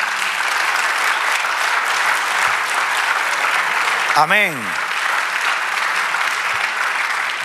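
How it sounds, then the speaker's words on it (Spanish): Steady applause from a church congregation fills the room throughout, with one brief voice calling out briefly midway over the clapping. "Den un aplauso al Señor"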